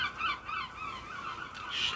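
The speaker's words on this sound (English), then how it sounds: "shut up, birds." Geese honk outdoors in a quick run of calls, moderately loud and near, with no talk over them.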